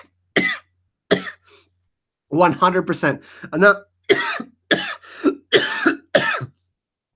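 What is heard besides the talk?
coughing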